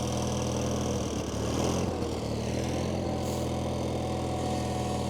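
A 37-year-old John Deere 316 lawn tractor engine, running a little cold, throttles up into a steady, close mechanical drone with a brief uneven stumble partway through.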